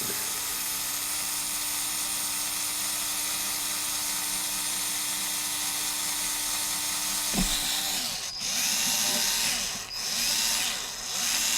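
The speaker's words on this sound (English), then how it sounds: "I need to drill that hole out just a little bigger" A power drill enlarges a hole slightly for extra clearance on a workbench project, giving a steady high whine for about seven seconds. A short thump follows, then a few separate bursts of drilling.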